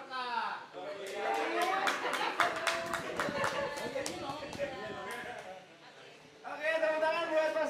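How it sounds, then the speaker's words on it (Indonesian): Scattered audience clapping at a training event, sharp irregular claps running through the middle of the clip while people talk and laugh around it, with voices more prominent at the start and end. "tepuk tangan buat Pak Sugiono"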